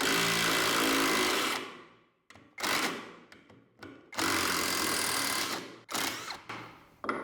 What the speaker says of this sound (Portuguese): Soltando os parafusos Phillips.